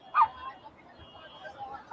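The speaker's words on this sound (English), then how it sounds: "Sounds like Xaname's dog's barking" A dog barks a few times as faint, distant-sounding yips from a video playing in the background, with quiet room noise around them.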